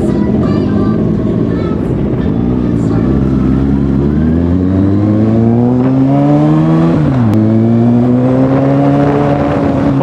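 A Yamaha R6 sport motorcycle engine revs while riding at a hill circuit in Tarlac, a loud continuous drone that climbs in pitch through repeated upshifts, close to the rider.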